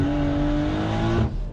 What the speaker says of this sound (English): I'm gonna floor it now. Let's go.